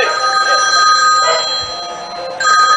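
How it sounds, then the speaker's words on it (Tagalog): A telephone rings loudly with a bright, repeating electronic trill, and people chatter and react around it. "Ang lakas ng telepono."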